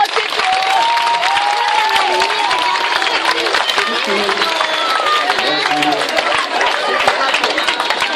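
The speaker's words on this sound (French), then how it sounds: "on les applaudit très très très fort" A crowd at an evening hypnosis show at a campsite breaks into loud, sustained applause, with dense clapping mixed with cheers and chatter.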